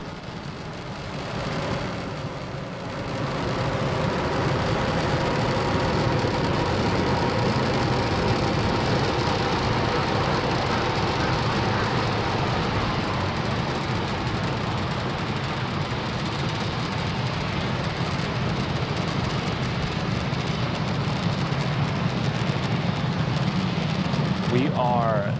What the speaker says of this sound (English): Falcon 9 has cleared the tower and is currently throttling down to prepare for max Q